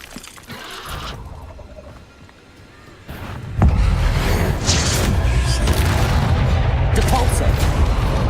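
Fiery spell effects from the game Hogwarts Legacy: a quieter passage, then a sudden loud roaring blast around three seconds in, followed by sustained, dense crackling and booming combat noise with distant bursts.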